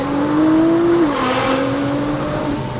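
A 700-horsepower Nissan GT-R driven hard makes a loud, steady engine drone with a rising tone, then a quick drop in pitch as it shifts gear, close and unbroken.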